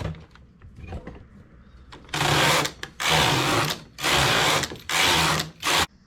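A knitting machine works rows of a glove cuff in two strands of industrial yarn, starting with quiet clicks and handling, then loud, close whooshing carriage passes back and forth, about five sweeps in steady rhythm.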